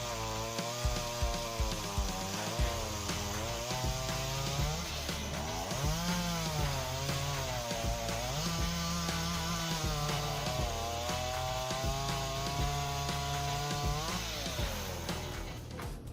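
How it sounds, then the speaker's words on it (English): Large forestry chainsaw cutting huge blocks of wood, its engine droning loudly and continuously with pitch swells as the bar bites and eases, over machinery rumble. "It cuts huge blocks of wood, demonstrating its dominance in the chainsaw industry."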